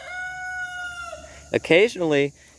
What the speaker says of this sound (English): both of you roosters like talking to each other, so they'll crow at each other all day